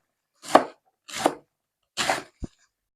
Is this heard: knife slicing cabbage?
yes